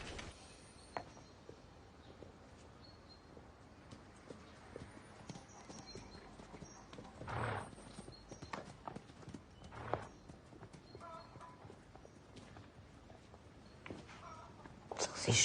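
Hooves of a lame mare clip-clop slowly and unevenly on a hard surface, fairly faint and distant, with a couple of louder thuds amid quiet background noise.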